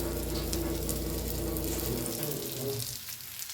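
Loud, steady sizzling of fish frying in hot oil in a pan, close up, easing slightly toward the end.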